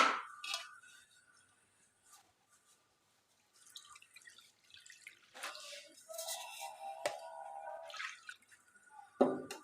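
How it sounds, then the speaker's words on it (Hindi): Milk is poured into a cooking pot for rasmalai, a soft intermittent trickle and splash that starts faint and grows steadier and wetter toward the end, heard close with no talk. "ये मैं 3 गिलास इसमें दूध डालूंगी।"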